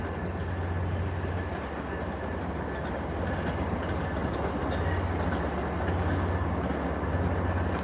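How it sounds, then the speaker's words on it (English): A commuter train bound for Needham Heights idles and rolls at South Station, with a steady low diesel rumble and continuous rail and wagon noise that swell slightly in the second half. "this is the train to Needham Heights"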